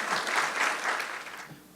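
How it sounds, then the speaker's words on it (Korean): An audience at a church talk show claps in a short burst that swells in gentle waves and tapers off within about two seconds. "박수 할까요?"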